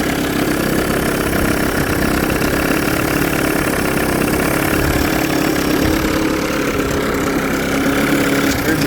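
A 1993 Evinrude 30hp short-shaft two-stroke outboard motor idles steadily, loud and close, with a continuous rough, buzzing drone and no voices.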